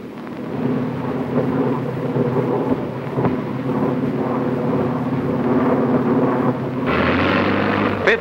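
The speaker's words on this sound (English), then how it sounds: "English planes load for the run to Berlin" British cargo planes preparing for the 1948 Berlin airlift at Wunstorf Field near Hanover, a steady loud aircraft engine drone with low rumbling throughout and a brighter surge of engine roar near the end.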